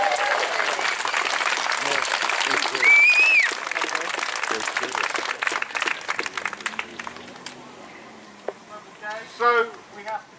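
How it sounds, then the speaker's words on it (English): Round of applause from a crowd at an outdoor protest rally, loud and dense at first with a whistle cutting through, then thinning to scattered claps as voices start to talk. "they really do deserve another round of applause."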